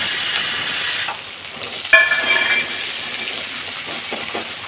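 Halved onions roasting in a pan, a loud hiss that drops away after a second, then a sharp clatter and a softer, steady sizzle at close range.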